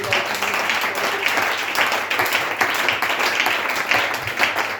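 Congregation in a church service applauding in acclamation, a dense sustained round of clapping from many hands, loud and even for the whole stretch with a few voices mixed in.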